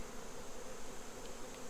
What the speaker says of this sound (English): it's got a lot of nurse bees on it